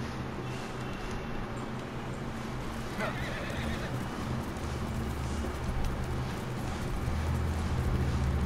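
A horse neighs and hooves clip-clop steadily within the Ghost of Tsushima video game on PS4, over a dense bed of wind and ambient game noise, with no talk.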